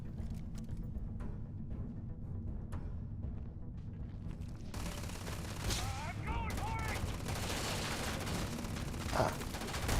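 Sustained rapid gunfire in the video game Starfield, a steady loud barrage of overlapping shots running the whole time, with faint voice-like sounds and chirps surfacing in the second half.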